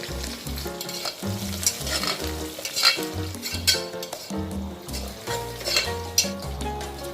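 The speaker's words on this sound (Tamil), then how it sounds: "பட்டை, ஏலக்காய், மல்லித்தலை, புதினாத்தலை ஒரு கைப்பிடி போட்டு நல்லா கிளறிக்கணும்." Cinnamon, cardamom, coriander and mint sizzle in hot oil for biryani while a spoon stirs and scrapes the pan, producing rhythmic clinks and steady frying close by with no talking.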